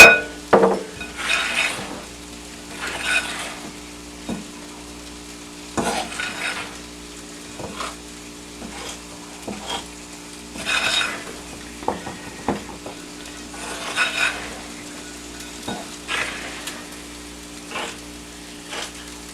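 Sausage gravy sizzles and bubbles in a pan while milk is poured in and stirred, with a spoon scraping and clinking against the cookware every few seconds over a steady frying hiss.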